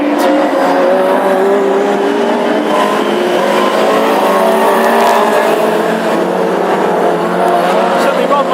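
Classic hot rod race cars roar continuously around an oval track at Birmingham in a heat, one notably loud car among them, with a dense, sustained engine drone that stays close and loud throughout.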